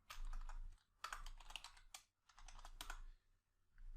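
Keys clatter on a computer keyboard as a query is typed, close and crisp, in quick bursts of keystrokes with short pauses between runs.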